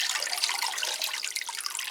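Water splashes and trickles steadily as three orchids are watered in a greenhouse, a close, continuous bright spray with small irregular drips and no talking.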